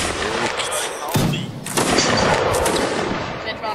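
Gunfire volleys crackle through a multiplayer military video game battle, several overlapping shots and thuds layered under ongoing talk and ambient noise.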